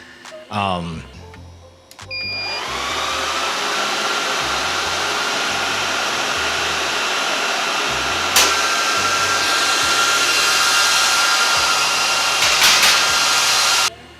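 A loud, steady whir of home server cooling fans spinning up after a brief rustle and click, holding a constant drone with a high whine and occasional clicks.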